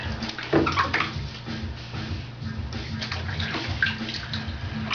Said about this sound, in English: I'm Buddy in the bathtub.